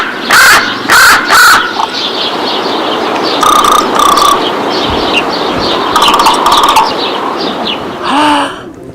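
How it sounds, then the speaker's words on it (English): A raven gives a series of loud, close calls, the first three harsh in a quick row, then paired and clustered hollow knocking calls with short gaps between, ending on a final call. "raven's knock"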